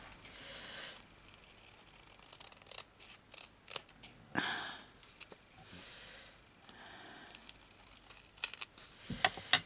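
Scissors cutting paper for a sewing journal craft project: repeated crisp snips and rustling paper in irregular bursts, close and fairly quiet, with brief pauses between cuts.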